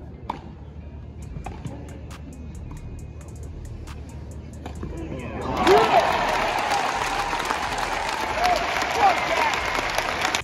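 A tennis match crowd breaks into loud applause and cheering midway, after a quieter stretch of murmuring and scattered claps, the broad clapping wash then filling the rest of the moment.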